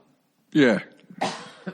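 Two rough coughs come close together, harsh and near, the first stronger, with a short breathy sound trailing after.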